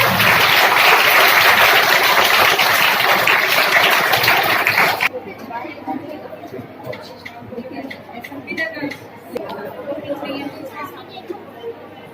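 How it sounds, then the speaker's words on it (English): Applause for the winners of a school quiz competition, loud dense clapping from an indoor crowd for about five seconds, then dropping to scattered claps and murmuring chatter. "Please clap for them."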